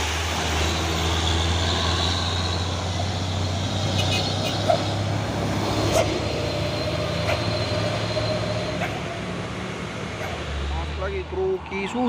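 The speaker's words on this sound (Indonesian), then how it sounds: "Lagi truk Isuzu." Isuzu truck engine labouring on an uphill road, a steady low rumble throughout with other heavy vehicles nearby and people talking over it.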